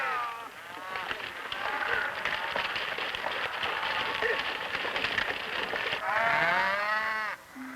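Cattle on an Alberta prairie range low repeatedly in drawn-out, mid-pitched moos, several animals calling close by, with a final deeper moo near the end.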